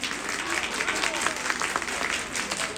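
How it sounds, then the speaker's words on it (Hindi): Audience applause at a live song performance dedicated to the 14th Dalai Lama, a steady dense clapping that fills the whole stretch at moderate level with some voices mixed in. "बजाओ ताली इस बात पे"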